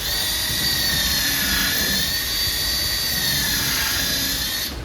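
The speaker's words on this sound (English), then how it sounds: "we're just going to run some pilot holes, and you might hear it impact" A power drill whines continuously at high pitch while boring pilot holes, steady and close with no pauses.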